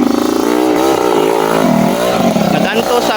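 A small motorcycle engine revs close by on a trail, its pitch rising and falling in rapid wavering sweeps as the throttle is worked, loud and buzzy with people talking over it.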